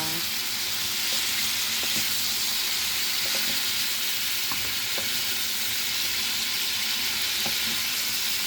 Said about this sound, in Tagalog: Nagisa ako ng bacon